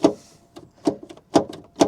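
A BMW car door handle, with its cable newly hooked and clips refitted, is pulled repeatedly, giving four or five sharp, close mechanical clicks and latch snaps at roughly even intervals, with no talking.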